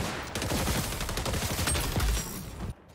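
Gunfire from the online shooter XDefiant: a dense, continuous fusillade of overlapping shots fills nearly three seconds, loud and steady, then cuts off abruptly near the end.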